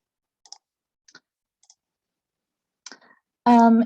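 Computer mouse clicks while fields in Zotero are edited, a few faint, sparse clicks spaced about half a second apart, ending in a brief burst of louder sound.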